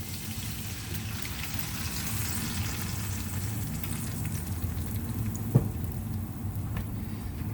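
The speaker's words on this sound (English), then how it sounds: "I'm going to be careful when I dump it in, cold going into the hot oil. Watch out, it might spit a little bit." Canned tomatoes fry in hot oil in a pan, giving a steady, close sizzle and crackle throughout, with a few sharp pops and spits standing out near the end.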